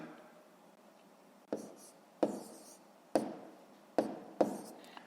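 Pen taps and strokes on paper as numbers are written during a fifth-grade maths division exercise, five distinct sharp writing bursts after a quiet start, close and clear.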